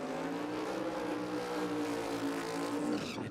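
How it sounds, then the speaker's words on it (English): The Coyote Commodore, a 2,500-plus horsepower drag and drive race car at Willowbank Raceway, Australia, roars loud and close with a sustained, steady engine drone, pitch rising slightly before cutting off at the end. "The Coyote Commodore. One of our newest drag and drive cars in this country."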